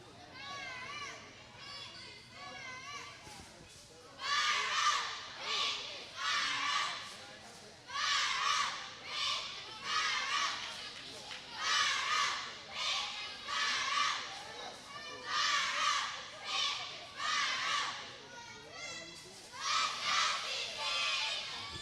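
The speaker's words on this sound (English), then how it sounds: "We're going to listen to them cheer" Cheerleaders at a girls' middle school basketball game chant in unison, loud rhythmic bursts of young voices repeating in regular phrases with short pauses between, over a faint gym murmur.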